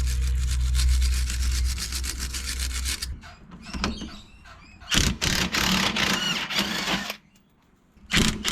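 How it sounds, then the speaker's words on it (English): A brush scrubs rapidly back and forth over bolt threads on a RWD Lancer during a lowering block install, giving loud, close, rhythmic scratchy strokes in bursts separated by brief pauses. "Just gonna hit these threads with a quick little brush off, get any like crud or anything that's sitting on them."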